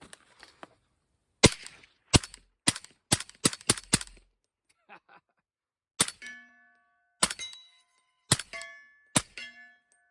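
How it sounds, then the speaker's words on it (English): Suppressed 300 Blackout rifle fitted with a StingerWorx Hunter suppressor fires into dirt: a rapid string of about seven sharp cracks, a pause, then four more spaced shots, each a close, loud report with a short ringing tail. "I'm going to shoot some into the dirt, just so we don't have the ring of the steel."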